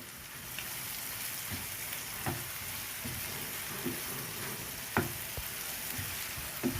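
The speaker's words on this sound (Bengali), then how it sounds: "এবার এরই মধ্যে একই সঙ্গে দিয়ে দেব আদা রসুন পেস্ট দিয়ে ভালো করে নাড়াচাড়া করে নেব" Ginger garlic paste fries in a pan for a chicken Kolhapuri curry, giving a steady close sizzle with occasional sharp spatters and stirring knocks and no talking.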